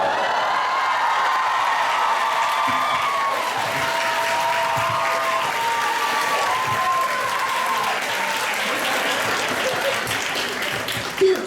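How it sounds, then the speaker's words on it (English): Steady applause from a large convention audience, dense and continuous at close range for the whole stretch, with a few voices rising through the clapping and a brief louder burst at the very end. "Don't clap for that."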